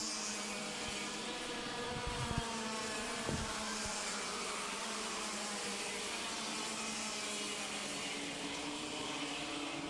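Racing karts run nose to tail on a track, with a constant high buzzing engine whine from several karts blending together at steady volume, heard from a distance with no talk over it.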